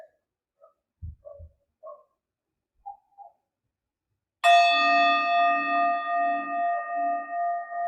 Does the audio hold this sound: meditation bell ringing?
yes